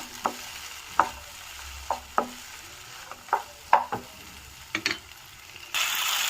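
Tomato, potato and capsicum frying in a pan for a curry, with a spatula scraping and stirring in spaced strokes about once a second over a soft, steady sizzle; no talking.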